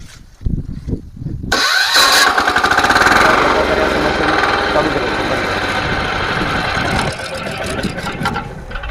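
The small engine of an 11 HP power weeder cranks on push-button start and catches, then runs at a steady, loud, buzzing idle for several seconds.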